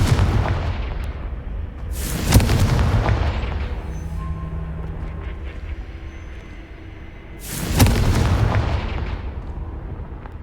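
Confringo blasting curse in Hogwarts Legacy, set during a haunted Hogsmeade shop quest: two loud, sharp explosions several seconds apart, each with a booming decay over a steady low ambient rumble.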